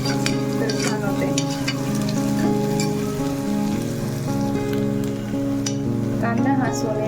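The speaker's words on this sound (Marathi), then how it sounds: "कांदा हा सोनेरी रंग येईपर्यंत आपण भाजून घेऊयात" Sliced onions frying in hot oil for misal pav, a continuous crackling sizzle like rain on a surface, steady and close throughout under soft background music.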